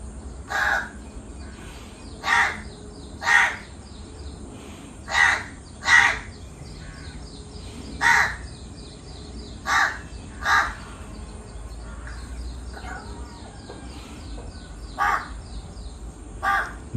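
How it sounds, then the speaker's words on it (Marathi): A close crow calls repeatedly, harsh single caws at fairly regular intervals over about seventeen seconds, clear against a quiet outdoor background with no voices. "हा कावडा आहे ना परेशान करतोय आता."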